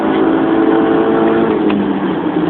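An Audi TT 3.2 FSI pulls hard at full throttle, its engine a steady, continuous drone with the revs rising slightly, loud and close from start to finish.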